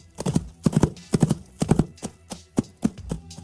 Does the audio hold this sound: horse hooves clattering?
yes